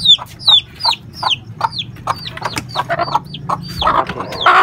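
A hen clucks repeatedly at close range in a quick, steady rhythm, the calls growing busier toward the end.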